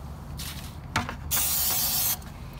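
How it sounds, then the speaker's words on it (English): Short bursts of hissing spray from an aerosol can of 3M 90 adhesive, then a longer steady spray lasting about a second before it stops. "you just spray up your 3M90 adhesive"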